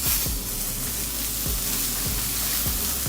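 Burger patties sizzle in a very hot oiled cast iron griddle over medium-high heat, a steady close hiss with a few soft scraping ticks running through it, no talking.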